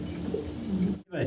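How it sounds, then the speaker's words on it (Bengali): A Polish Lynx pigeon cooing nearby in a few low, soft throaty coos, with a voice talking over it. "পলিশ লাইনেক্স দেখেন কত সুন্দর কবুতর ভাই।"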